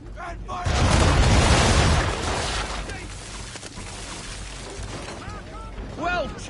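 Ship cannons fire round shot in a broadside during a naval video game battle, a loud rolling boom that rumbles for a couple of seconds and fades, with a voice talking over it.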